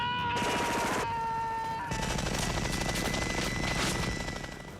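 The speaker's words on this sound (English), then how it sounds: "Shooting those many bullets coming through that gun, that power, it was an amazing experience." Gunfire on the film set of Predator, a sustained roar of rapid shots lasting several seconds with a steady mechanical whine running through it, loud and close throughout.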